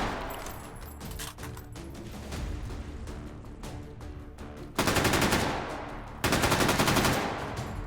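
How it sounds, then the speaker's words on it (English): High caliber battle rifle gunfire in a video game, with sustained bursts of rapid automatic shots interrupted by gaps of quieter game sounds, loud and close, with no talking. "I have a pretty high caliber battle rifle."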